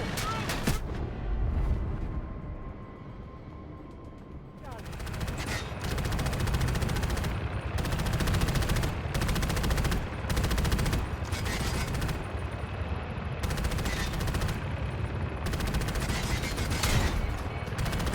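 Ground anti-aircraft cannons fire in the Delta Force video game, producing loud, sustained bursts of rapid gunfire over a constant engine roar. The bursts come in repeated stretches separated by short gaps.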